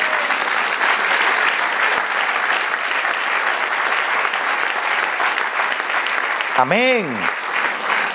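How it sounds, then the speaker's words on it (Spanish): Sustained applause from a church congregation fills the space steadily and loudly, with a voice calling out briefly near the end over the clapping. "Denle un aplauso al Señor."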